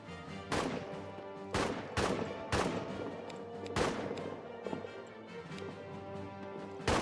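Gunfire in the trench warfare game All Quiet in the Trenches comes as a handful of loud, sharp shots spaced irregularly over a low rumbling background, with no talking.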